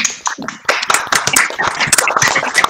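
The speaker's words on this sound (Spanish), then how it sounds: "los invito a todos a desbloquear los micrófonos para darle un aplauso a la Kena" Online audience applause for photojournalist Kena Lorenzini after a talk, a dense stretch of hand clapping from many participants at close range and fairly loud, rising after a brief start and continuing steadily, with a few voices mixed in.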